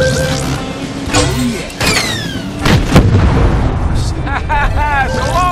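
Rockets fire in a Cars racing video game, sharp whooshing launches and booming blasts in quick succession over engine noise, with people talking throughout.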